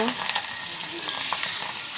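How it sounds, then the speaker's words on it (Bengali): Fish coated in turmeric and coriander powder frying in oil in a wok, a brief close, steady crackling sizzle with no voices. "মাছটি ভাজা হয়ে গেলেও উল্টিয়ে নিয়ে আবার নামিয়ে নিব"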